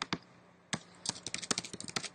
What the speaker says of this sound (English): I'm just typing in my web URL